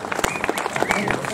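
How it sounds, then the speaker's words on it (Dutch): Crowd applause at a roadside stage of a women's cycling race, scattered claps and cheers briefly under an announcer's amplified voice. "Hier applaus voor SD Works."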